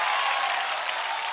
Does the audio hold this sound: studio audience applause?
yes